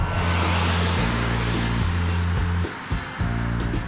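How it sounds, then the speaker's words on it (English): Steady broadband rush of wind noise around the A-pillars inside a Nissan Leaf electric car while driving, a continuous cabin roar with low droning hum that dips briefly near the end. "a bit more wind noise off of the A-pillars than I would expect in a car like this"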